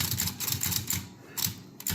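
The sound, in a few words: Corona 3 folding typewriter mechanism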